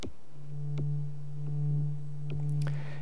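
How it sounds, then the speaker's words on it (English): A steady, pure sine tone from a synthesizer oscillator hums low and even, swelling gently in loudness, with a few faint clicks over it. "the top oscillator is in sine wave mode. It sounds like this."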